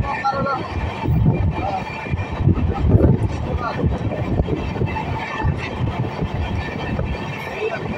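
A train rolls along near Azimganj in Murshidabad, a continuous low rumble with rattling and some wind buffeting, and speech faintly audible over the running noise.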